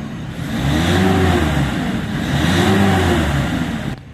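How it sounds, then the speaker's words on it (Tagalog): Mitsubishi L300 Euro4 van engine revved close up from behind the vehicle, two smooth rising and falling revs over a steady idle hum, loud and alone. "Iparev ko ulit yan."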